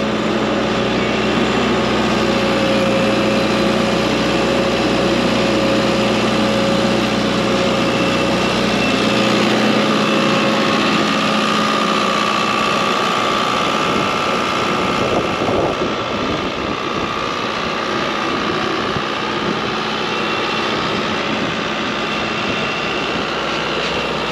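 A tractor engine runs steadily and loud while turning through a vineyard field, a continuous drone with a low rumble that shifts partway through as the machine changes pace.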